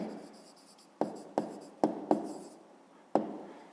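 Writing on a board during a fifth-grade maths lesson, heard as a quick series of sharp taps and scratchy strokes, about six distinct hits spaced irregularly, close and fairly quiet with no talking.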